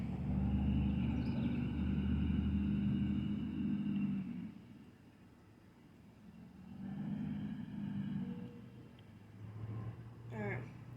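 A video-game truck's engine rumbles low and steady, swelling and easing as it gathers speed toward a small jump, with a voice talking over much of it.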